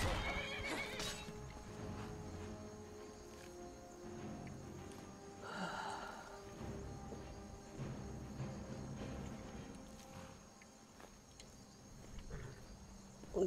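A horse in Skyrim Special Edition whinnies clearly near the start, with clip-clop hoofbeats and snorts continuing over a steady backdrop of insects and crickets.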